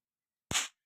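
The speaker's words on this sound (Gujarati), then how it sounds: "ભોય ભડાકા ફટાક લઈને ફૂટે" A single firecracker bursts with one sharp, loud bang after silence, then a brief fading crackle, outdoors during a vlog outing.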